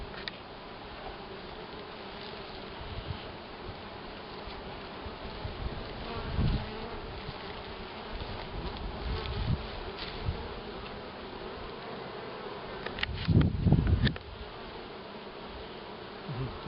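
Honey bees in an opened sun hive make a steady, dense buzzing swarm drone, close and continuous, with a few louder passes as individual bees fly near.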